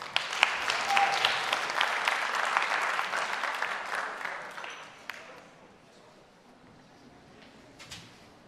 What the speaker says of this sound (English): let's make a big, big applause to Poland.